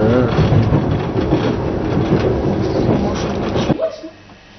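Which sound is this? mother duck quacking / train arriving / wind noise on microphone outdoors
train arriving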